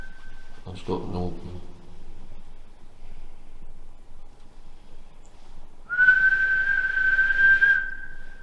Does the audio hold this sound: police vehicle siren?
no